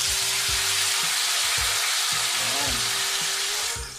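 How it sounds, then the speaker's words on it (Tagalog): Tofu sizzles steadily in hot cooking oil, a dense continuous crackle close up with a low rhythmic clatter of the pan underneath, fading slightly at the end; a brief word is spoken. "Sunod natin ipiprito yung ating tofu."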